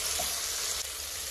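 Chopped tomatoes frying in a pan for vegetable pulav, a steady close hiss of sizzling oil with faint stirring scrapes, no talk.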